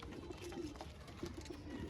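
Teddy pigeons coo in low, repeated hums against a steady background, a few soft calls spread across the stretch at moderate distance.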